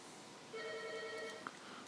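A telephone rings faintly in the background of a brick fireplace build, with a steady electronic trill of about a second over room hiss and a small knock near the end.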